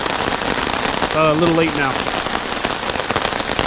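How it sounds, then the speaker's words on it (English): Rain patters steadily on a camping tent, a dense close crackle of drops that runs throughout, while someone speaks briefly over it. "The rain is slowing down some."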